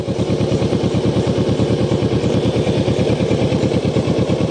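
A motorcycle engine idles in traffic close by, a loud, steady, rapid pulsing rumble that continues without a break and stands alone with no talk over it.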